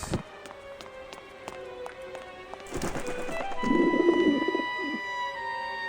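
Pigeons coo in the video game Grim Fandango, a soft low warbling burst midway through, over a steady musical score with sharp ticking taps.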